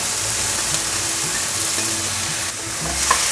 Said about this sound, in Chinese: 小黄瓜，快速的翻炒。